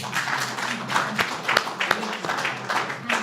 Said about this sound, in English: with a warm round of applause, let's invite Amina Art Ansari and Rhoslyn Singh